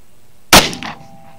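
A single sharp, loud report from a Glock 43X 9mm pistol fired into ballistic gel, a close crack with a short ringing decay, standing alone without speech.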